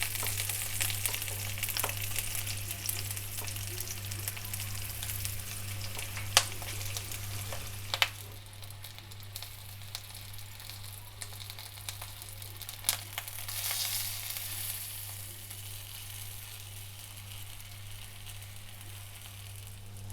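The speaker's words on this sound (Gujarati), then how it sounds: "મરચાંને આ રીતે ફેરવતા જઈશું વચ્ચે વચ્ચે, એટલે બધી બાજુથી બરાબર શેકાય." Stuffed green chillies in the Kathiyawadi style roast in a pan with a faint, steady sizzle. They are turned now and then, giving a few sharp clicks and scrapes of stirring. The scene is quiet and close, with no talking.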